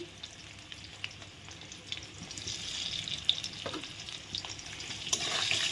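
Papaya frying with salt in a pan makes a soft, steady sizzle with light stirring scrapes and a few small clicks, growing slightly louder toward the end, with no speech.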